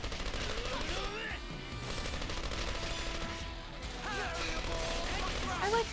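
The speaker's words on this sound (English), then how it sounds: "And they're fighting with actual bullets." Battle gunfire in Xenoblade Chronicles 3 forms a dense, steady wash of shots and clatter running through the whole stretch, mixed with game music and voices talking over it.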